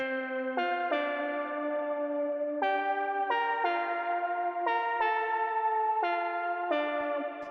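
A bright analog synth lead of saw and square waves plays a stepping melody of held notes, buzzy and rich, with a light echo trailing each note.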